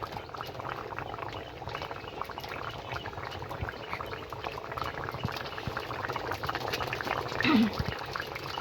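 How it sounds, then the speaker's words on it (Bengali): Fish curry with potato and eggplant in the Bengali style bubbling in a pot: a steady, close, wet boiling and popping texture that continues throughout at moderate level, with no talk. "টকবক টকবক করে ফুটছে।"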